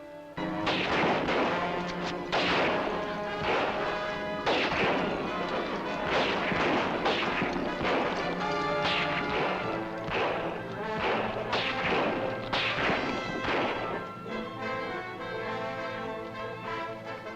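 Gunfire from an old adventure serial's shootout, a dense barrage of loud cracking shots and booms fired in rapid irregular bursts over a constant roar, continuous and without pauses.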